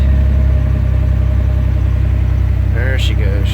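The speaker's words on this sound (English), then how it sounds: "There she goes. She's idling down." A V8 engine in an S10 pickup idles with a steady low rumble throughout, and a voice speaks briefly near the end.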